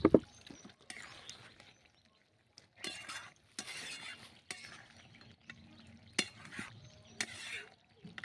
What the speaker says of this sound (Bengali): নেড়ে চেড়ে নাবিয়ে দেবো।